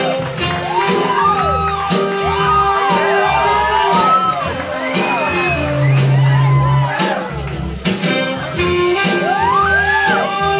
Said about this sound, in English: let's give her a huge New York City round of applause